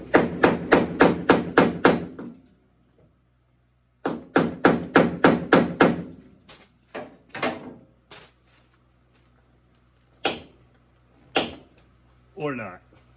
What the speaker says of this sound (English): Sometimes you can shock it, hit it with a hammer.